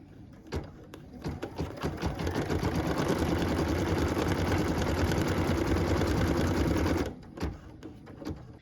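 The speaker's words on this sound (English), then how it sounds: "So what we're stitching now is that star placement line." Embroidery machine stitching a star placement line on a Christmas tree skirt, a fast steady mechanical chatter running for about six seconds after a few starting clicks, then stopping, close and fairly loud.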